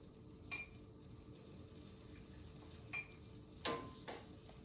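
Soft clinks of a ladle against bowls while matzo ball soup is plated in a kitchen, a few faint, sparse taps and chimes over quiet room tone.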